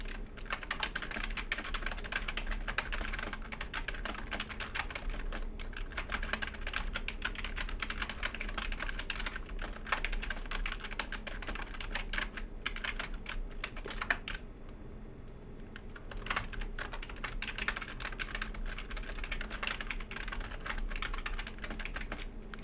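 Steady typing on a computer keyboard, with quick irregular clusters of key clacks running continuously at close range, pausing only briefly partway through.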